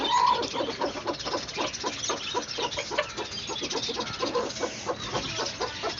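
A flock of Kadaknath chickens clucking steadily and close by, overlapping soft calls repeating throughout with no talking.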